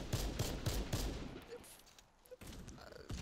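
HCAR rifle firing in the shooter game Warface, a rapid string of evenly spaced shots for about a second and a half, a short pause, then more shots, fairly faint.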